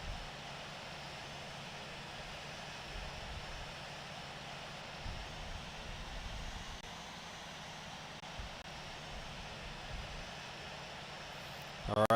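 Steady airliner engine drone from a simulated jet in Infinite Flight, parked at Key West after a flight from Chicago O'Hare, a continuous even hum that holds level throughout and ends with a brief louder burst.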